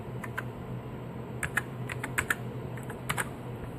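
Keys tapped on the built-in keyboard of a Commodore SX64 computer, a few scattered faint clicks in small bursts over a steady low hum, no talking.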